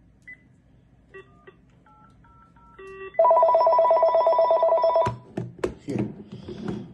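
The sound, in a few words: telephone dialing tones (DTMF) on a thrift store phone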